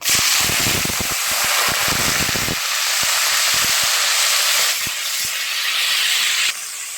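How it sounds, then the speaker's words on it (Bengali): Chopped vegetables for mung dal drop into hot oil and fry with a loud, hissing sizzle, dense crackling pops at first, then settling into a steady close-up hiss. "তেল গরম হয়ে গেছে, এখন আমরা এই কাটা সবজিগুলো দিয়ে ভেজে নেব।"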